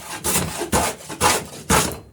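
An adze hogs material off a wooden plank on a New England style racing dory, giving four rhythmic, scraping strokes, each a loud rasping burst followed by a short pause.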